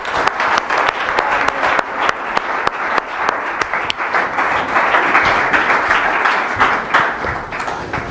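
A church congregation applauding during a Sunday worship service, sustained dense clapping with scattered sharper claps, loud and continuous throughout.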